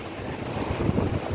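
Wind gusts roar and buffet the microphone in woods, a steady, rumbling rush, close and fairly loud, with no voices.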